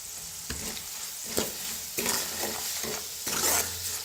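Red chili powder roasting and being stirred in a pan for a Kolhapuri dish, soft sizzling with repeated scraping strokes of a spoon across the pan, steady and close, no voices.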